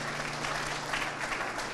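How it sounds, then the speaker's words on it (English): Steady applause from an audience at a community youth awards ceremony honoring the Youth Commission, even and sustained with no voices on top. "Let's give a round of applause to the Youth Commission"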